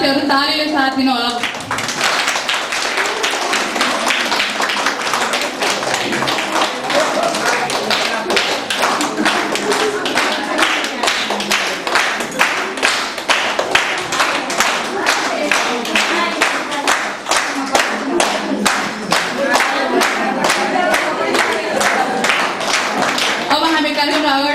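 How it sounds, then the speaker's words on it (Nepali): An audience at a Swasthani and Maha Shivaratri ceremony claps steadily and loudly for over twenty seconds, with dense, even rhythmic hand claps that swell and continue without pause. "साथीहरू तालीले साथ दिनु होला"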